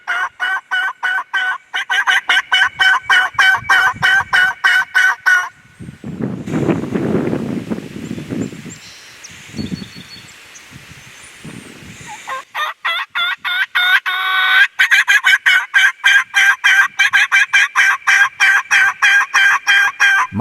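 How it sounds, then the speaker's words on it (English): A wild turkey gobbles in the New York woods during spring hunting season, in rapid, loud, rhythmic bursts at the start and end, with a stretch of wind noise and rustling in between. "Mark has got several birds responding in the distance."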